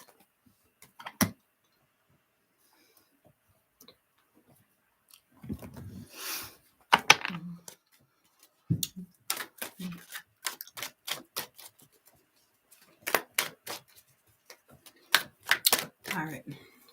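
A tarot card deck is shuffled in bursts of crisp, rapid clicking and riffling with short pauses between, close and fairly quiet.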